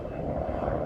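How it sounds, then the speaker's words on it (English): Helicopters doing drills along the lake in Chicago's Lincoln Park, a brief steady rotor and engine rumble heard from a distance. "Here's helicopters."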